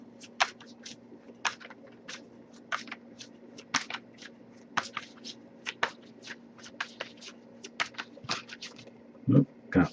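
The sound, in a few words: shuffling tarot cards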